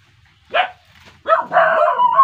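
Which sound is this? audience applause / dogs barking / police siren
dogs barking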